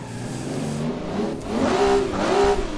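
An 800-horsepower Toyota Supra drifting at Ebisu North circuit in first gear, its engine droning loud and steady before swelling into two rising revs near the end.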